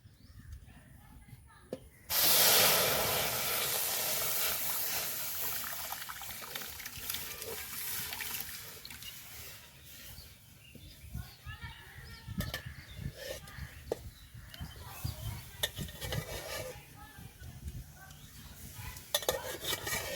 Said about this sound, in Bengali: জলটা ফুটে গেছে